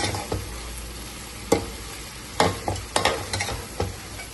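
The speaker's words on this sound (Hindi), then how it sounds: "अच्छे से मिक्स कर देंगे।" A spatula stirs vegetable pulao in a frying pan, making a steady sizzling bed with a series of sharp scraping and clanking strokes that come closer together toward the end, up close.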